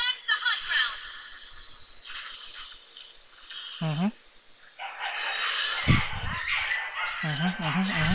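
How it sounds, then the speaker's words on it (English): Dogs bark in the background, short and intermittent, under loud nearby talking while a mobile game plays. "And the dogs are barking, guys."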